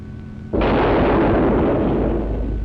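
An AMX-13 light tank's main gun fires once, a sudden loud, close blast that cuts through a low engine hum and leaves a long, heavy rumble fading slowly over the next two seconds.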